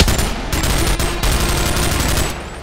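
Rapid automatic gunfire rattles loudly and close in the video game Boneworks, a dense unbroken burst of shots lasting a couple of seconds.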